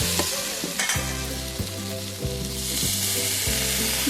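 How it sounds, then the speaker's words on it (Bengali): Potatoes and snails being stirred in a pan with a splash of water, for a Bengali snail and onion curry: steady close frying sizzle with several rhythmic scraping strokes of stirring, no voices. "আলু আর গুগুলিগুলোকে দিয়ে দেবো একটু নাড়াচাড়া করবো একটু জল দিয়ে দিলাম"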